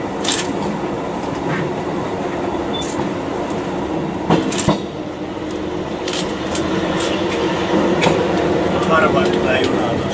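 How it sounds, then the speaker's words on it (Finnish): A train passes along the railway in central Lappeenranta, its rolling wheels and clickety-clack running loud and continuous, with sharp metallic clicks and squeals, while people talk over it. "Varmaan tulee junaa tossa."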